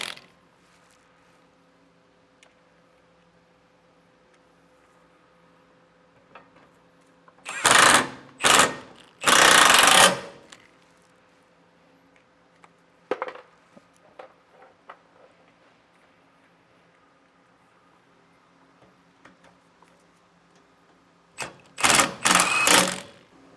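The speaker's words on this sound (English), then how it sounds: "I'm only going until the head of our self-tapping screws are touching" A power driver sinks self-tapping screws into a Roadmaster Comfort Ride leaf spring kit on a 2015 Keystone Raptor trailer, giving short loud whirring bursts in two clusters with quiet, faint mechanical clicks between them.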